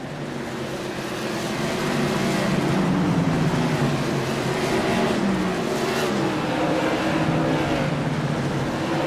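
Stock cars racing at Lanier National Speedway, a sustained engine drone with shifting pitch as cars press through the corners, steady and moderately loud over the whole stretch with no talk.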